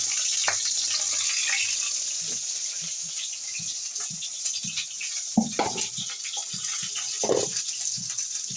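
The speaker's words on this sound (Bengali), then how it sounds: "হাতটা ধুই" Water pours from a kitchen tap while hands are washed, a steady hiss with irregular splashes and soft knocks as the hands move under the stream.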